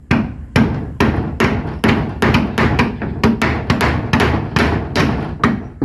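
Nails are hammered into wooden planks on a house build, about fifteen loud, sharp strikes in a steady, slightly uneven rhythm, close to the microphone.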